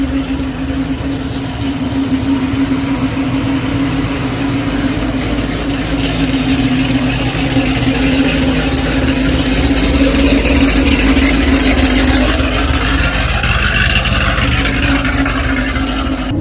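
A car engine runs steadily while driving, a loud continuous drone with a strong low hum and a slight rise in pitch later on, in a car fitted with an F1-style steering wheel.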